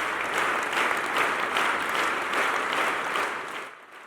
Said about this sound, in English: Apostle Grace Lubega and his congregation were unwavering in their determination, clapping non-stop for the entire duration of the record-breaking event